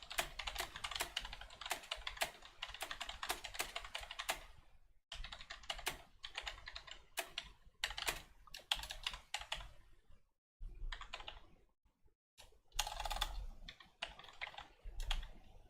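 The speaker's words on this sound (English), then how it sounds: "Stop typing." Rapid computer keyboard typing in bursts of clicks with short pauses between them, close and fairly quiet, no voices.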